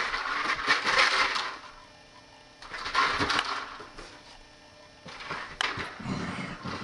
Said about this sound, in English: That is a can of oots snack mix, emptied with dog kibbles in it.